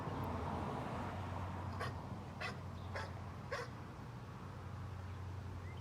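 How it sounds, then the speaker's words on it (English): A dog gives a handful of short, separate yips and whimpering barks spaced about a second apart over a steady low hum, fairly faint and with no one speaking. "this is a dog conveying happy"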